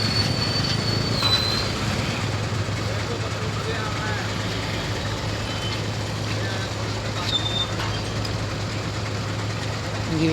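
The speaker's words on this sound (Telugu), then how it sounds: "Train is back." A long train rolls past close by, its steady rumble and low engine drone filling the scene with faint wheel squeals on top, while people talk over it.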